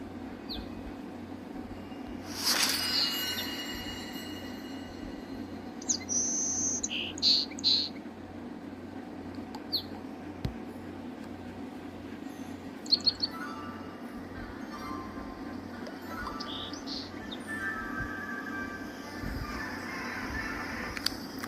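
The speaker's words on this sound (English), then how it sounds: "It's a bird." Birds chirp in the Harry Potter Magic Awakened video game, a few short high tweets scattered through a steady ambient hum, with a brief bright burst early on and soft calls later.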